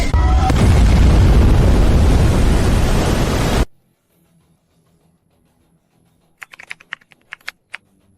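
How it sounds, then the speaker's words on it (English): A high energy laser main cannon fires with an explosion, a loud, roaring blast that holds for about three and a half seconds, then cuts off abruptly into near silence broken by a few faint clicks. "High energy laser main cannon charged."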